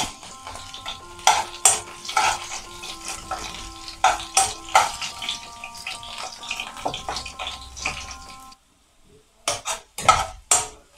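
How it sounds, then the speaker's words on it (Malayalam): Garlic fries in a pan for a quick ber apple pickle, heard as bursts of sizzling and scraping stirring strokes with metallic utensil taps, pausing briefly near the end before resuming. "അപ്പോൾ ഒരുമാതിരി വെളുത്തുള്ളി ഫ്രൈ ആയിട്ടുണ്ട്."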